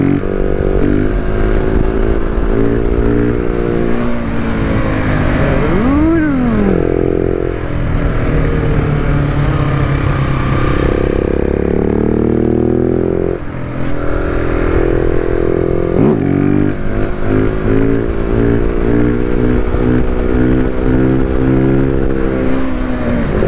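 A 2019 KTM 690 SMCR single-cylinder motorcycle ridden on a cold winter road, its engine loud and close, revving up and down through gear shifts with a brief drop in the middle.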